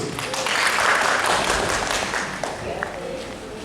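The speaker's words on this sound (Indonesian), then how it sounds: "Mari kita berikan aplaus untuk Desa Tunggul." Applause breaks out for Desa Tunggul village at a rural finance training session, a steady wash of clapping from a crowd that swells and then tapers over a few seconds.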